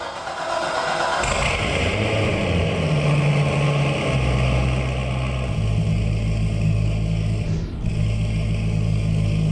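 An American muscle car engine in the video game Driving Empire cranks and starts, then settles into a loud, rumbling idle with a few shifts in pitch, heard close with no voices.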